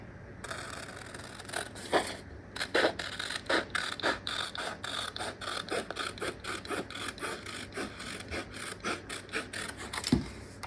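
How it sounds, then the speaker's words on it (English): Scissors cut a printed paper PDF sewing pattern sheet in a rapid series of crisp, close snips and rasping paper slices, each stroke short and repeated rhythmically. "And then I'm going to cut this one here."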